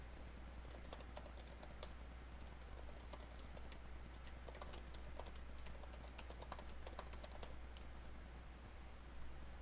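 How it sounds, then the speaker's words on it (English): Faint keystrokes on a computer keyboard as a reply is typed into a message box, a steady run of soft, irregular clicks over a low constant hum. "To respond to a message, simply type your response in the message box."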